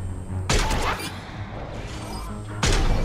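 Two loud, sharp sniper rifle shots in the Mass Effect 3 Citadel DLC, each a sudden booming crack about two seconds apart, with quieter combat ambience between them.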